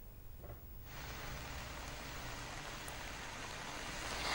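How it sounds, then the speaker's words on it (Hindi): Heavy rain pours down in Lahore, a dense, steady broadband hiss that fills the scene continuously after a brief quieter start, with no voices. "लाहौर में बारिश का सिलसिला इस वक्त जोरों शोरों से जारी है।"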